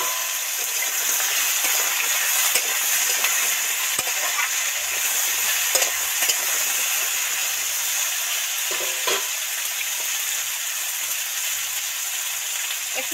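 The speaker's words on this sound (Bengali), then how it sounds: "একটু সামান্য নুন ছড়া দেবো যাতে সবজিগুলো তাড়াতাড়ি ভাজা ভাজা হয়ে যায়।" Eggplant, potato and tomato fry in hot oil seasoned with panch phoron, dried red chillies and bay leaves, giving a steady close sizzle with occasional stirring scrapes and clinks and no talk.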